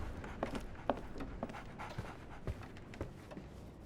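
A dog pants in rapid rhythmic breaths close by in the video game Sherlock Holmes The Awakened, with faint shuffling underneath.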